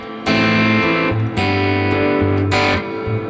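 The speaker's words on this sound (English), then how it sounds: "Okay, this is more of a hall reverb." Guitar chords struck three times through a hall reverb pedal, each swelling into a broad, smooth hall reverb that lingers and fills the space between hits.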